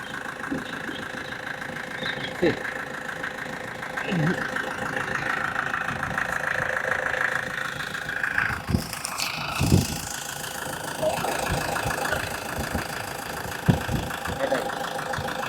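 A Scorpio's engine idles with a steady, slightly rattling hum, accompanied by intermittent clicks and knocks and occasional voices in the background.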